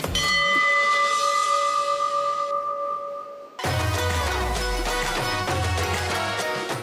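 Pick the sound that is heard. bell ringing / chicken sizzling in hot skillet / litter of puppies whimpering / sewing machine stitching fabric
bell ringing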